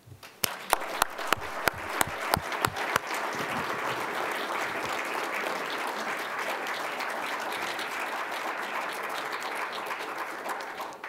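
An audience applauds: a few separate claps at first, then dense, sustained clapping from a crowd that carries evenly to the end without fading.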